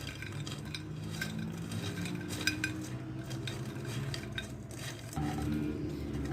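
Sugar-coated coconut being stirred in a pan as it dries and turns crunchy, giving a continuous dry scraping, clinking and rattling of utensil against pan, close and moderately loud.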